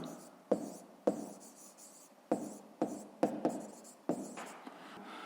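Pen or pencil writing on paper during a fifth-grade maths exercise, with a series of short scratchy strokes and taps at an irregular pace, close and fairly quiet, without talk.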